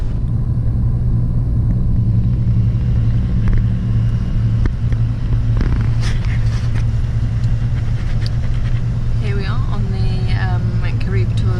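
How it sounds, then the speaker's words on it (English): Loud, constant low engine rumble inside an air-conditioned long-distance bus travelling through the Dominican Republic, with voices talking over the drone toward the end. "Bus."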